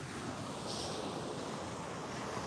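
Ocean waves washing onto a beach where surfers are out, a steady broadband roar of surf with some wind noise, continuous and fairly faint throughout.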